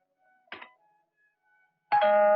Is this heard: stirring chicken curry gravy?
no